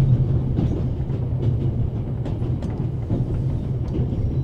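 A moving train rumbles steadily in The Raven: Legacy of a Master Thief video game, a low continuous drone with faint rhythmic clatter of the carriages, no voices.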